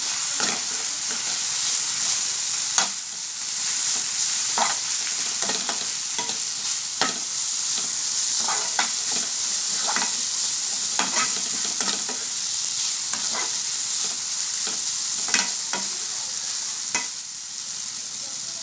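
Bitter gourd and tomato fry loudly in a pan with a continuous close sizzle, broken by frequent irregular clinks and scrapes of a spatula stirring throughout, with no voices.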